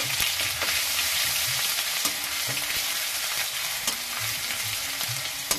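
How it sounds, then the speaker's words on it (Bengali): Garlic sizzles in hot oil as it is stirred, a constant close crackling hiss broken by light scraping strokes and occasional soft clicks of the utensil against the pan. "আমি এবার দিয়ে দেবো রসুন, এটা দিয়ে একটু ভালো করে নাড়াচাড়া করে নেব"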